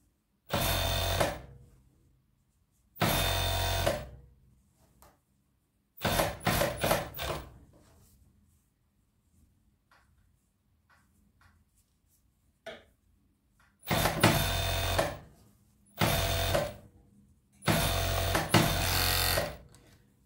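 A sewing machine stitches a sleeve onto the body of a hooded cardigan, running in loud bursts of a second or two separated by quiet pauses, with no talking.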